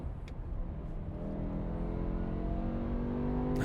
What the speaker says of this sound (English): It's a bigger engine, it's a V10, it's a higher revving engine.